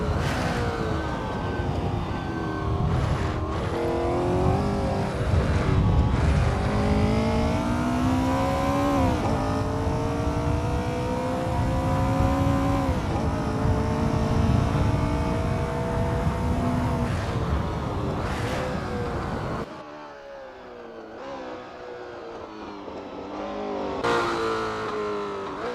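Race cars in the video game Assetto Corsa, at the 1960s Longford circuit, rev and accelerate loudly as they warm up, engine pitch rising and falling through gear changes before dropping away near the end.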